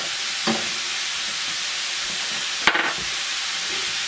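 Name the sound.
chorizo frying in a covered pan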